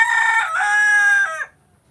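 A single rooster crow rings out close and loud, a long harmonic call lasting over a second before breaking off into quiet.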